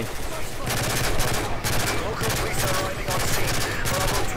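P90 submachine gun fire in the video game Call of Duty: Modern Warfare 3: loud, rapid automatic bursts repeating almost continuously, with possible talk underneath.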